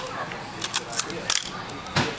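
A Nikon F FTn film SLR fires its shutter at slow speeds, giving several sharp, close mechanical clicks spaced irregularly, with a voice talking between them.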